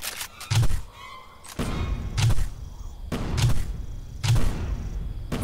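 Gunfire in the zombie shooter Left 4 Dead 2 on Realism difficulty: four heavy, booming shots spaced roughly a second apart, each with a sharp thud and a short decaying tail.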